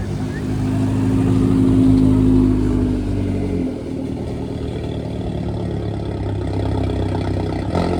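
A Lamborghini engine on a Monaco street sounds loud and close, a deep steady drone that swells, then drops in pitch midway before settling into a lower rumble.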